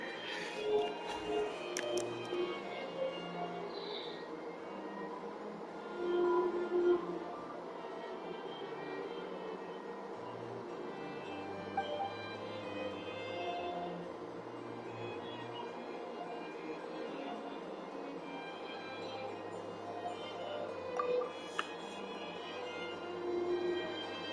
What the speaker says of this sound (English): I have the portable air conditioner on because it does get pretty warm down here.